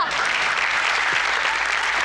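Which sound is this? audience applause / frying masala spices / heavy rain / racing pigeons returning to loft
audience applause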